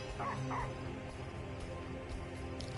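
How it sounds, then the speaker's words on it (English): A dog yips and barks in a couple of short bursts at the start of a live PS4 gaming broadcast, over a steady background hum and clatter, with no speech. "Fucking dumb dog."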